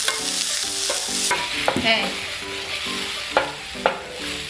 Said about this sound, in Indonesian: Ini ditumisnya sampai layu aja, 2-3 menit kayak gitu ya.